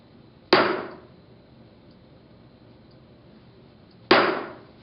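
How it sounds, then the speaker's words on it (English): Two sharp metallic taps from a small hammer striking metal number stamps into a metal part, a few seconds apart, each ringing briefly in a quiet room. "Use a small hammer, don't have to hit it very hard."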